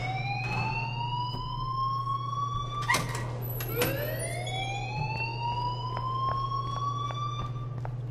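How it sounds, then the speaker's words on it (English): A school alarm in Life is Strange wails continuously, a loud rising and sweeping electronic siren tone over a steady low hum, with a few sharp knocks along the way. "please turn off that alarm since that's your job"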